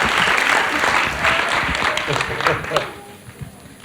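An audience gives a loud round of applause at an education and training conference evening event, dense clapping that fills the clip and slowly thins toward the end, with voices mixed in.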